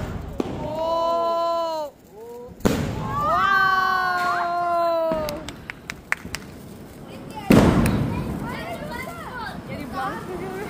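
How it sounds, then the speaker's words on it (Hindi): Diwali firecrackers bursting at a party celebration, with sharp pops and thuds scattered through the clip, partly masked by whistling, squealing fireworks and people talking and shouting nearby. "हम इतने सारे पटाखे फोड़ रहे हैं"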